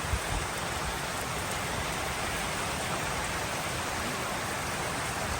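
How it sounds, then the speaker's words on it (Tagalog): Heavy rain pours down steadily in a broad, dense hiss that stays constant and loud for the whole stretch. No one speaks over it. "malakas na naman ang ulan ngayon"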